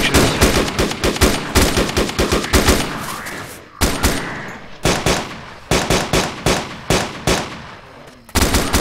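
Automatic weapons fire in a co-op war video game, loud and close, coming in repeated rapid bursts separated by short pauses across the whole stretch.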